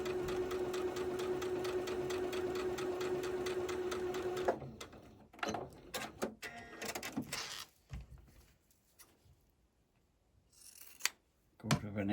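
A sewing machine stitching a Japanese fabric quilt runs in a steady, loud whir for several seconds, then stops, followed by scattered handling clicks, rustles and a few sharp knocks.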